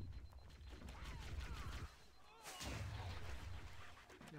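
Explosions and heavy gunfire in the Halo video game rumble at low level, a dense booming blast swelling then easing, followed by another burst of detonation.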